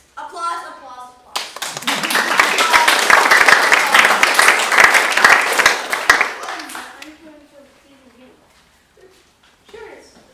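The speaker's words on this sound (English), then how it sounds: "Applause, applause, applause." A burst of audience clapping swells quickly, holds for several seconds, then thins out and fades, with quiet voices before and after it.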